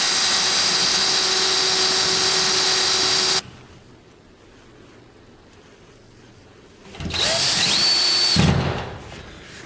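A loud, high-pitched whirring power drill runs for a few seconds, stops, then whines again briefly as it spins up and bites, driving a screw.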